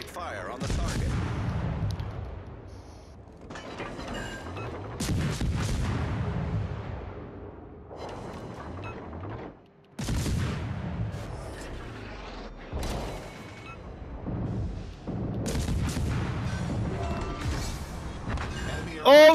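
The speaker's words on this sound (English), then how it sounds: "Concentrate fire on the target." Naval artillery from a warship in a destroyer battle video game, repeated heavy booming salvos with rumbling decays at intervals of a few seconds, loud and close, with a voice talking in the background.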